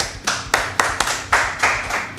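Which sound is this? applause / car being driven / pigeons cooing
applause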